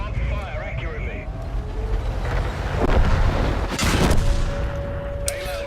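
An FV304 tank in World of Tanks on the Winterberg map takes hits and is destroyed: loud, booming bursts of gunfire and explosions over a rumbling battle bed, with a voice faintly present.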